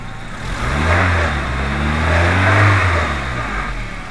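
A VW A3 engine keeps running with the distributor disconnected during a no-spark check. It makes a steady, fairly loud mid-pitched hum that swells slightly, like light revving, and continues throughout with no talk.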